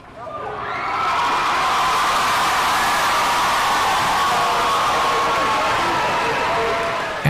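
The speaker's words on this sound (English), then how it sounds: "parents, family members, and friends line the streets and cheer as they try to find the face of their loved one" Family and friends lining the streets at Parris Island cheer on new Marine recruits during their run: a loud, dense wash of crowd noise and shouting that rises quickly and holds steady throughout.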